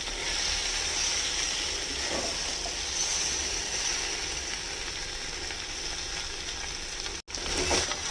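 Small chela fish curry sautés in a hot pan with a steady, close frying sizzle and hiss, with occasional stirring scrapes and a brief break near the end.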